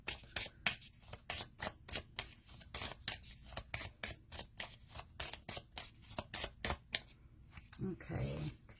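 Rapid, rhythmic riffling of tarot cards being shuffled close by, in quick repeated bursts, with a brief low murmur near the end.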